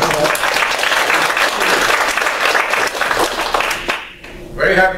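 A symposium audience applauds a welcome, dense sustained clapping filling the room for about four seconds before it fades out and a voice begins speaking.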